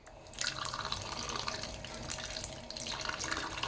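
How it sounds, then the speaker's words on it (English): Tap water runs steadily into a cup, a soft close trickle and splash with a few brighter bursts, quiet and alone, while filling it to mix food for a pet gecko. "And now it's time to fill it with water."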